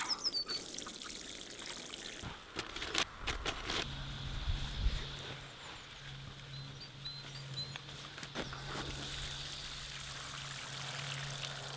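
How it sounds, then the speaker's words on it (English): Water pours into a dry planting hole dug in garden potting soil for a wisteria, a quiet steady trickle and stream with soft patter and a few knocks, fairly close and without voices. "mostly potting soil and tons of water will be filling this hole"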